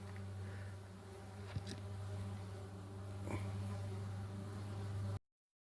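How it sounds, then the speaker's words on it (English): Bees swarm around ground nest holes resembling anthills on a Utah mountain trail, a close, continuous low buzzing drone with individual insects zipping past, then sudden silence. "They look like anthills, but they're not. They're bees."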